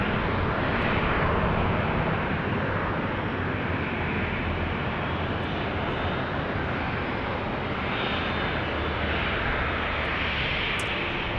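A Southwest airliner landing at Phoenix Sky Harbor International Airport, a loud, steady jet engine roar that holds for the whole stretch with no talking.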